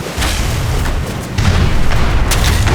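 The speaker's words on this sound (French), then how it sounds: "quand ça explose et tout, je trouve ça vraiment ça sympa" Battle explosions in the video game Age of Empires III sound as a dense stream of booms and thuds, with several sharper bursts punctuating continuous loud combat noise.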